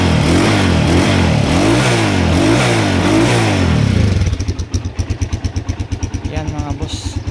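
A stock 2010 Honda XR200 motorcycle engine revs loudly in repeated surging bursts, then drops to a rapid, steady putter at idle, close by, with someone talking over it.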